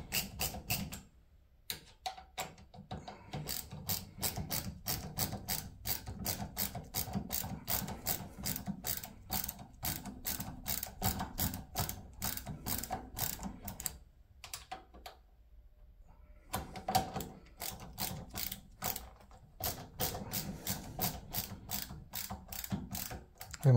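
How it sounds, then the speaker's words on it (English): A MegaPro ratcheting screwdriver clicks rapidly and steadily while fastening a door knob, close and crisp, in long bursts broken by brief pauses, with no talking. "if you guys want the best ratcheting screwdriver in the world, I highly recommend these MegaPro screwdrivers"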